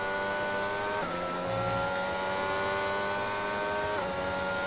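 Formula 1 race cars in a racing video game scream past at the Japanese Grand Prix, high engine whines rising and shifting pitch as they accelerate down the straight, loud and continuous with no voices.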